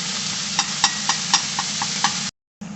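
Ground beef for Szechuan noodles browns in a pan with a steady sizzle, broken by periodic soft stirring knocks, then a brief cut to silence before the sizzle resumes.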